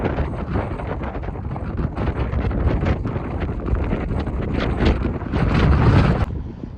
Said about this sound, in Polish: Może żebyście mieli odgłos chociaż tego wiatru, jak nas tu wygina